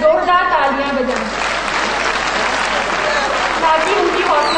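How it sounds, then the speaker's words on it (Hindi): A crowd at a school stage show of play and dance claps loudly and steadily for teachers, helpers and workers, a dense wash of applause that follows a brief moment of voices at the start. "कृपया आप इन टीचर्स, हेल्पर्स एंड वर्कर्स के लिए जोरदार तालियां बजाएं"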